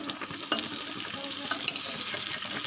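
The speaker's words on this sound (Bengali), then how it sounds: "এই দেখো চিংড়ি মাছের চপগুলো এবার আমি এক এক করে উল্টিয়ে দেবো" Prawn chops sizzle steadily in hot oil in a frying pan while being flipped one by one, with a few sharp clicks and clatters of the turner against the pan and no talking.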